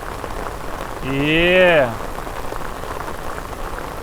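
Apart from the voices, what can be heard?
rain falling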